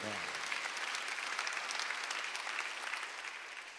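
A church congregation applauds steadily during a Sunday service, dense clapping filling the space at an even level before tapering off slightly toward the end.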